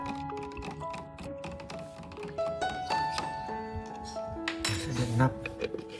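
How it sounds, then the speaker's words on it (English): Clinking of a utensil against a cup or bowl while stirring a yeast solution in hot water, a run of light, irregular taps and rings over a few seconds, close and fairly quiet. "Stir the solution."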